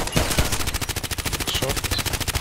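Rapid automatic gunfire in the online shooter Contract Wars, a steady fast stream of loud, evenly spaced shots with a few separate single cracks at the start.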